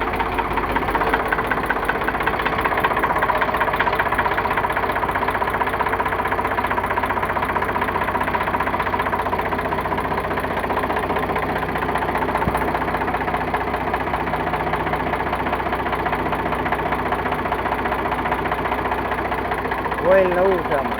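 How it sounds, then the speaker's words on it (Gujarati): A Ricardo air-cooled diesel engine with battery self-start idles close by, a steady rhythmic knocking chug that runs evenly throughout while people talk over it. "પાણી વગરનું આવશે, રિકાર્ડો એન્જિન,"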